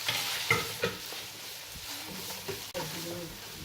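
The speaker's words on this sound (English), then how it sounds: "Now we'll be adding the beef mix that is minced." Minced beef mix is stirred and fried in a pan, giving close, repeated scrapes and shuffles of a utensil over a soft, steady sizzle.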